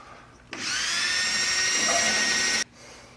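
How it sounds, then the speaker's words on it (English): A power drill fitted with 800 grit sandpaper whines as it sands a headlight lens during a restoration. The high, steady whir starts abruptly, holds close and loud for about two seconds, then cuts off. "I'm going to go ahead and sand this down with this 800"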